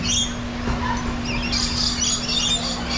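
Cuban amazon parrots calling at a zoo park, bright chirps and squawks scattered over a steady background hum, moderately close.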